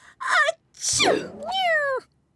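A voice imitates a sneeze between sliding, meow-like vocal sounds, loud and close.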